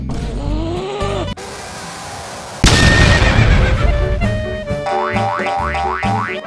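A horse neighs inside a video game about the character Dogday, loud whinnying followed by bouncy cartoonish game effects and rising tonal chirps, with no talk.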